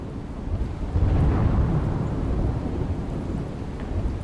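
Heavy downpour with thunder during monsoon flooding in Gujarat: a low rolling rumble swells after the first second and slowly fades, over a constant hiss of rain, fairly quiet overall.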